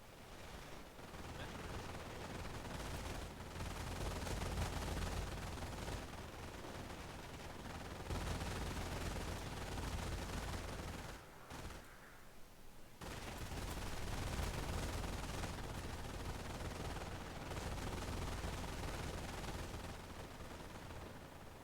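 Gunfire crackles as a base comes under attack in the strategy game Company of Heroes, a dense, continuous wash of distant battle noise with brief lulls and a faint voice.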